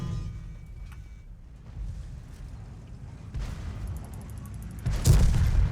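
Tank cannon fire in World of Tanks during a live match, heard as low rumbling booms with a sharper, louder blast near the end.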